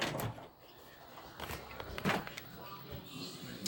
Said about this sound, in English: Close the door with my foot, with the cat door.